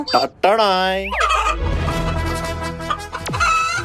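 Several chickens cluck and squawk loudly and close by, with a turkey-like gobble breaking in near the end.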